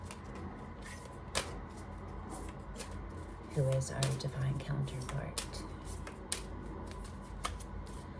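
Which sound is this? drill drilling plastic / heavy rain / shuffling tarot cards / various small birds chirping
shuffling tarot cards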